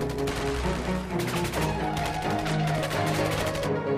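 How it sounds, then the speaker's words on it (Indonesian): Gunfire from a film shootout between an FBI team and terrorists at an Arabian oil field, rapid bursts of shots layered over a tense musical score, dense and continuous throughout. "Tim FBI memberikan perlawanan hingga terjadi baku tembak di antara mereka."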